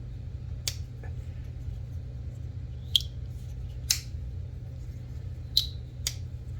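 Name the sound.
Begg slip joint knife opening with a swoosh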